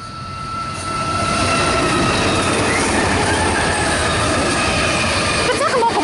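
Train hauled by several locomotives passing a station platform at Tahmoor, New South Wales. A loud, continuous rolling rumble swells in the first second and then holds steady, with squealing wheels and clickety-clack from the rail joints throughout.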